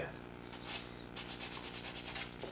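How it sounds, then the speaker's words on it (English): Sanding along a seam on a plastic scale model of the Kursk submarine, a dry rhythmic rubbing that starts faint and becomes steady, repeated close-up strokes in the second half. "I think I need to do a bit of a sand there."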